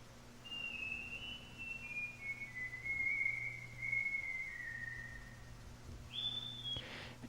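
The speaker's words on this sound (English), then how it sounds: "Listen to the whistling of this image." A single person whistles a slow, wavering, faintly eerie tune that drifts gently downward, followed by a brief higher note, quiet and alone over a low hum.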